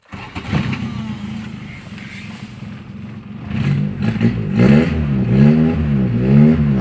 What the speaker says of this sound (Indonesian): ini Civic Wonder kita coba nyalakan